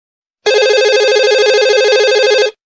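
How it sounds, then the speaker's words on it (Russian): A telephone rings with a steady electronic warble, one continuous burst of about two seconds that starts and stops abruptly, loud and close with no other sound. "Мой телефон зазвонил"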